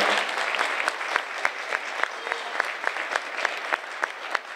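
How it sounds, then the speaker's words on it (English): An audience at a middle school winter concert applauding the band, a steady wash of many hands clapping at moderate distance, with occasional sharper individual claps standing out. "Let's give them a big round of applause."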